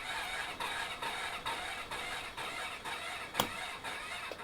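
A Honda VFR400 NC30 motorcycle engine cranks as it tries to start, giving a steady train of rhythmic pulses about twice a second with one sharp click near the end.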